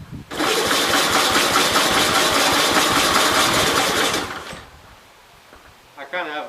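A 1950s Gravely model L engine is cranked over, a loud rough clattering burst lasting about four seconds up close before cutting out, followed by quiet and a short voice at the end.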